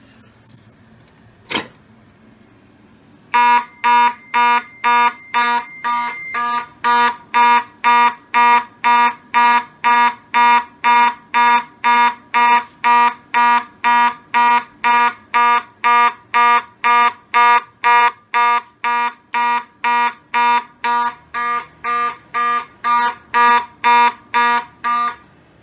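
A model 4251 fire alarm sounds after its manual pull station is pulled, giving a loud, steady train of rapid evenly spaced electronic horn blasts that runs alone for over twenty seconds.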